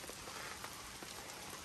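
Light rain falls outdoors in woodland by a fallen tree, a steady soft hiss of drops pattering on leaves and ground, close and even throughout with no voices.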